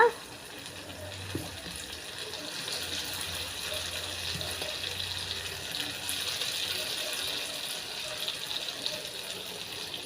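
Minapa rotti batter sizzles in hot oil in a pan, giving a steady, faint crackling hiss that carries on evenly throughout with no voices.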